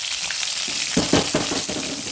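Curry leaves, onion, green chillies and a dry red chilli sizzle in hot tempering oil, a constant frying hiss with a few louder crackles and stirring bursts in the second half.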